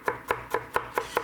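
A knife chops garlic on a cutting board in six sharp, evenly spaced strokes, close and crisp, with no one talking.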